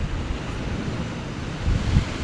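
Steady rush of sea waves with gusting wind noise across the microphone, a couple of heavier low surges near the end.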